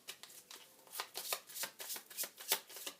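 Oracle cards are shuffled close up in a quiet, rhythmic run of soft riffling swishes and light slaps, about a dozen quick strokes with no voice.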